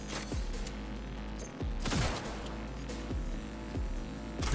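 Precision rifle called the Achilles firing in Cyberpunk 2077, several sharp shots spaced about a second apart over a constant low game hum and ambient din.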